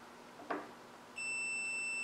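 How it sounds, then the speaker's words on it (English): After a brief click, a continuity tester's steady high electronic beep starts and holds continuously, clear and close, testing car wiring harness work. "you can hear that beep"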